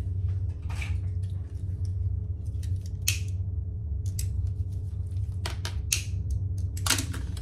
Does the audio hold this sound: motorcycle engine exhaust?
no